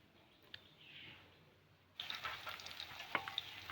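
Onion and garlic hit hot oil in a pan, starting from a quiet hush and turning into a brighter sizzle with scattered pops and a scrape of stirring over the last couple of seconds.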